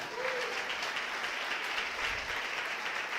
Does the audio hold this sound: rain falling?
no